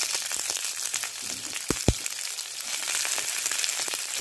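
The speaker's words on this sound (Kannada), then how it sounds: "ಇದಕ್ಕೆ ನಾನು ಆನಿಯನ್ ಹಾಕ್ಕೊಳ್ತಾ ಇದ್ದೀನಿ." Onions fry with chilies in a pan for paneer chilli ghee roast, making a continuous crackling sizzle that is broken by a couple of sharp stirring knocks close by.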